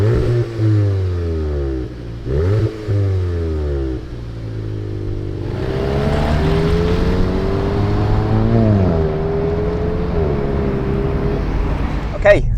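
A 2019 Volkswagen Golf GTI TCR revs at a standstill, capped at 4,000 RPM, its engine rising and falling in several short, close blips over a steady idle, with someone talking over much of it.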